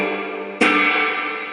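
A Squier Jaguar electric guitar strummed clean through a Fender 75 amp with heavy reverb: a sustained chord decays into a wash of echo, then a fresh bright strum cuts in and rings out long and spacious.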